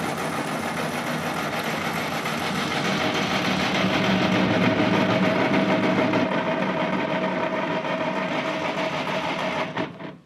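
Starter grinding on a Ford 8N tractor as the engine cranks steadily for about ten seconds without firing, a rough, even mechanical churn that cuts off abruptly at the end.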